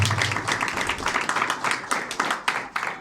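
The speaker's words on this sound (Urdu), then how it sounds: "آئیے زوردار تالیاں بجائیے" A church congregation claps loudly at a New Year service in a fast, rhythmic burst of many hands, close and full, with a few voices mixed in.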